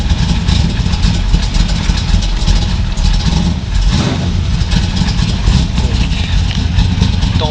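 A 1968 Dodge Charger's cold engine idles as it warms up, a steady low rumble with a slight uneven lope, loud and close throughout.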